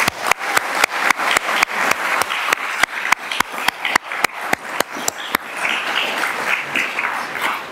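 Applause rings out at a university convocation ceremony as a crowd claps in a fast, regular beat, sharp evenly spaced claps standing out over a softer bed of clapping that loosens into scattered applause near the end.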